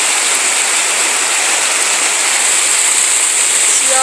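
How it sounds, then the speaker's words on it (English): A mountain waterfall in Colorado swollen by summer snowmelt runoff roars as a loud, steady, close rush of falling water, unbroken for the whole stretch. "I'm standing at the bottom of this waterfall here. It's the Mountain Summer Runoff in Colorado."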